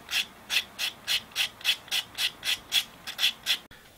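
A fishing float is sanded by hand with 400-grit sandpaper in about a dozen quick, even back-and-forth rubbing strokes, close and steady, with no talking.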